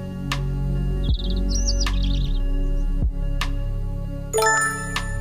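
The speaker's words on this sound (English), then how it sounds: "Suddenly, he heard some cheerful chirping." Cheerful cartoon bird chirps sound in a few quick trilling bursts among chimes and tinkling effects, over soft background music in a children's story game.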